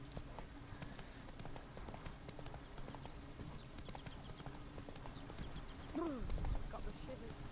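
Steady clip-clopping of a horse's hooves in The Witcher video game, close and continuous, with a brief louder snort or whinny-like sound near the end.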